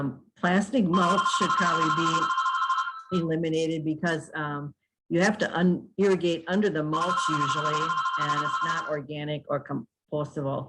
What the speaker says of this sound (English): I apologize for that phone, but I can't get it right now.